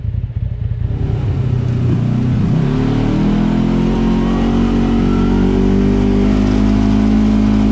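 A side-by-side off-road vehicle engine revs up hard on a trail, rising from a low rumble into a loud, sustained close roar that holds steady without any talking.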